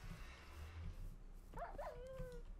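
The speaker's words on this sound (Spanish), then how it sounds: "aquí hay un perro y una gallina encerrados al lado de nuestro portal del infierno" A dog locked in a pen beside a hell portal in a video game gives a short whimpering yelp over low background game ambience, a single faint cry near the middle.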